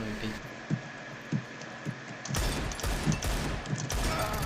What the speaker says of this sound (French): Ok, j'ai mis une balle de Deagle.